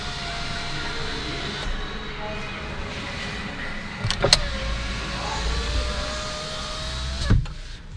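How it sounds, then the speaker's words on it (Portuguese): One-touch electric windows in a 2021 Volkswagen Gol 1.0 three-cylinder run with a smooth, close motor whine, each pass ending in a firm thunk as the glass seats. "Os vidros têm função 1 toque."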